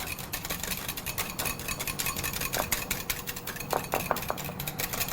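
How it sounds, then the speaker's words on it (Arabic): A spoon stirs cocktail sauce in a bowl, giving quick, light clinks and scraping taps against the dish over a low, steady background hum. "حرك مزيان"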